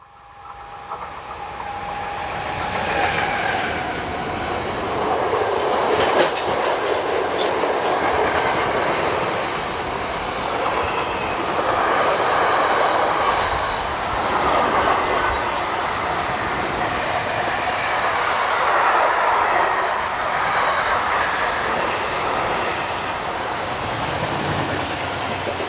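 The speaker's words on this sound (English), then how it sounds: "185046 powers train 51552 from Hagen to Zielce." Locomotive 185046 hauls freight train 51552 from Hagen to Zielce, a continuous rumbling roll of wagons with clattering wheels, steady and fairly loud for the whole stretch as the train passes.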